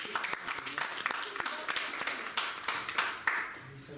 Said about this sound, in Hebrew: גם זוכה למחיאות כפיים